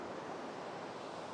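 Water rushes steadily at a waterfall, streaming in close beneath the spot and off to the right: a continuous, fairly near broadband wash with no pauses and no voices.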